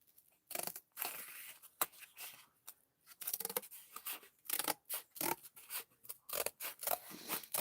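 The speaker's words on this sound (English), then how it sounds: "Go ahead and cut that whole length of that cardboard box because you'll need it." Scissors cut along a cardboard box in short repeated snips and crunches, close and fairly quiet, with brief pauses between the strokes.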